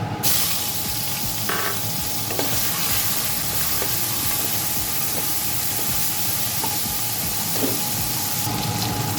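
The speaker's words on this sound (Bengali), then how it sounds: "এই তেলটার মধ্যে আমি চিংড়ি মাছটা ভেজে নেব" Prawns coated in salt and turmeric fry in hot oil in a kadai, giving a loud, continuous sizzle and hiss with occasional soft stirring knocks.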